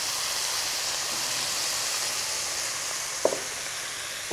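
Hot water poured over spiced yellow basmati rice in a hot pot gives a steady, loud sizzling hiss throughout, with a brief clink near the end and no talk.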